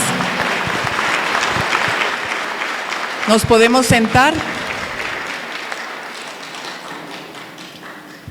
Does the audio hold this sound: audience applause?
yes